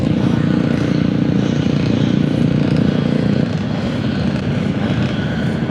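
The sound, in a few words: motorcycle race starting at the track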